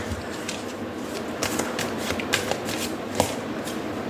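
Tarot cards shuffled steadily by hand, a close, continuous papery riffle with soft slaps and a few sharper flicks, alone without speech.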